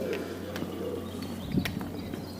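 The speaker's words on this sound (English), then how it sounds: "And some pigeons." Pigeons cooing near a castle and a pub outdoors, soft low coos repeating over street background with some clip-clopping and distant voices.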